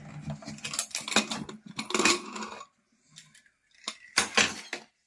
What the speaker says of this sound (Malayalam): അപ്പൊ നമുക്ക് ഈ കുക്കർ ഒന്ന് തുറന്നു നോക്കാം ഇത് എങ്ങനെ ഉണ്ടെന്ന്